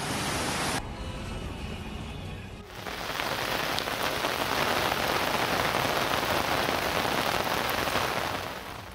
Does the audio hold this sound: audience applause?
no